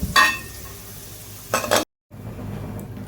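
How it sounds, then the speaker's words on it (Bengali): Katla fish heads frying in a pan, with two loud bursts of sizzling and stirring clatter close by, a brief silent gap, then a softer steady sizzle continuing underneath. "এরপরে আমি মাছের মাথাগুলো দেখো ভেজে নিচ্ছি"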